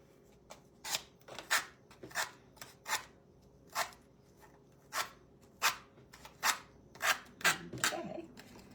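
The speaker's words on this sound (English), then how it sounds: "I need to cut" Scissors cutting through a paper craft banner, trimming a V shape: a series of about a dozen short, crisp snips in an irregular rhythm, close and fairly quiet, with no talk.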